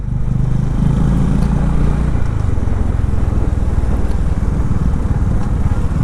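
A Bajaj Dominar 400 motorcycle on a return ride from Namobudha to Kathmandu produces a loud, steady low engine drone with rushing wind noise, constant throughout with no pauses.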